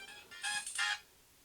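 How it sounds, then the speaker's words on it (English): A phone rings with an incoming call, two short bright electronic ring bursts, fairly clear and alone in a quiet room. "I'm getting a phone call."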